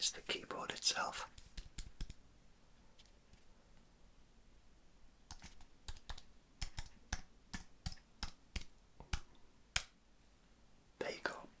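Metallic orange computer keyboard handled and clicked, a run of sharp, close key clicks and taps with quiet pauses between them, after some whispering and rustling.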